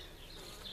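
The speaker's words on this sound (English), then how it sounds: "More and more bees" Honey bees buzzing inside an opened top bar hive during an inspection, a steady soft hum with no voices, faint and close throughout a brief moment.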